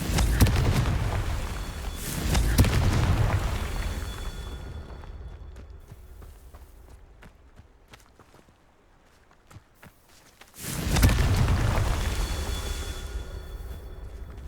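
A Confringo blasting spell goes off in Hogwarts Legacy, landing as loud broadband bursts in the first few seconds, then a long quiet stretch with faint clicks before another strong blast-like surge near the end.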